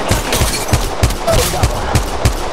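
Rapid gunfire in the Apex Legends Mobile video game, a steady rhythm of loud, close shots at about three per second, continuing for the whole stretch.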